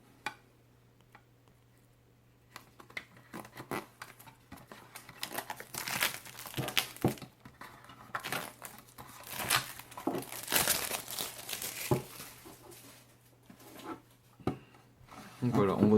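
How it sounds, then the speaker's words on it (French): Plastic wrapping is crinkled and peeled off a metal-bodied hard-drive cloning hub, with irregular close rustles and crackles that build after a quiet start and a faint low hum beneath. "Je vais enlever ce plastique."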